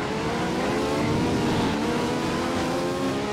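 Race cars roar at high revs in the PS2 racing game Alfa Romeo Racing Italiano, a steady, loud engine drone with layered harmonic whine, cars hopping the curbs, continuous and close throughout.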